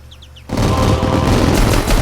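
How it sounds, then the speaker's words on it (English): Fireworks go off in the city-building video game Concrete Jungle. After a brief quiet moment, a sudden loud burst of crackling bangs erupts and continues as a dense barrage. "That fireworks is loud."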